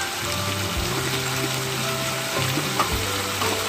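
Spices sizzle and fry with potatoes and black-eyed peas in a curry pan, a steady close crackle with faint stirring scrapes throughout.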